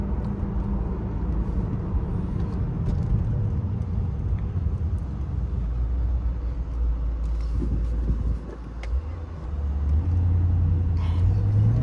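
A 2003 Dinan BMW Z8 with its original clutch accelerates through smooth gear shifts. A steady engine drone under road rumble briefly dips at a shift, then climbs again, heard from inside the car without talk.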